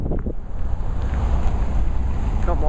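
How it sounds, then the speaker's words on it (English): Strong breeze buffets the microphone on a windy day in town, a steady heavy low rumble with gusty roar throughout, a faint chirp and distant sounds barely showing through. "Kind of a windy day, a little bit breezy."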